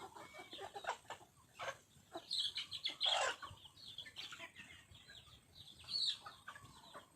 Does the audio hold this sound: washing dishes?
no